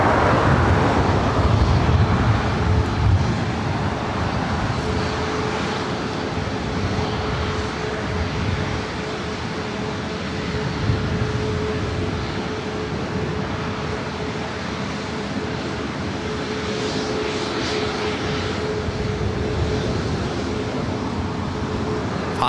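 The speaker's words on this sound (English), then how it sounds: "Flight heading to Oakland, flight 3458 on this one-year-old 737 MAX 8." A one-year-old Boeing 737 MAX 8 jet airliner at LAX, bound for Oakland, makes a steady distant engine roar that swells slightly early and then holds as a broad, moderate wash of jet noise.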